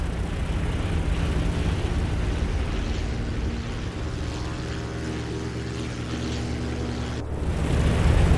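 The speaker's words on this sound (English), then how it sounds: "This can be achieved by using the afterburner. Accelerate the plane." Steady, loud jet roar from a fighter plane's engine with afterburner lit in the Birds of Steel game on Xbox 360, holding a dense rushing tone and swelling near the end as it accelerates.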